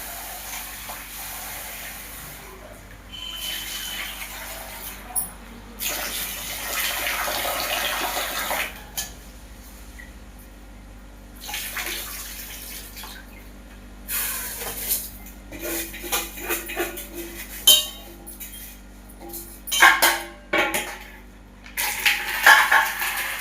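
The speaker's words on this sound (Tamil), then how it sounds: "அரிசி எடுத்து வச்சுருக்கேன் மூன்றரை கப்பு டூ மூணு வாட்டி கழுவணும்" Three and a half cups of rice are rinsed under running water, with a tap gushing in long bursts and grains sloshing in the pot, growing louder and more splashy toward the end.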